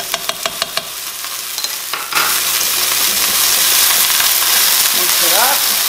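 A few sharp taps ring out before minced ginger and garlic hit a hot pan, setting off a loud, continuous close-up sizzle as they are stirred.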